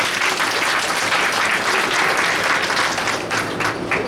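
An audience at a Yoga Day event in Gaur City, Noida, applauding loudly and continuously, a dense, even wash of clapping from many hands close around.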